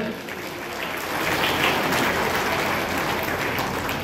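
An audience at a government event handing out housing-scheme forms in Goa claps in sustained, dense applause that swells slightly midway and stays loud throughout.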